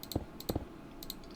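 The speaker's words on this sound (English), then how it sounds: "So if you hear my clicking there," Sharp mouse clicks with a worn spring during a Minecraft session, a few quick single and double clicks scattered across a short quiet stretch, close and fairly soft.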